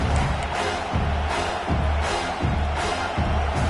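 A stadium crowd at an Auburn football game roars steadily and loud through the whole clip, a dense wash of cheering with rhythmic swells and no distinct speech.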